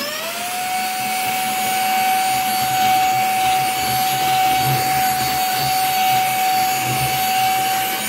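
A Silvercrest cordless mini vacuum cleaner runs steadily, sucking up dust and dirt, with a constant high whine and an even motor hum that holds close and fairly loud throughout, with no talk over it.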